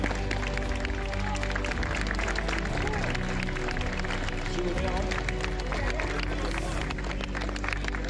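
Audience at a bull event in Candillargues applauding generously, dense steady clapping and crowd noise filling the whole stretch, loud and close, with murmured voices mixed in.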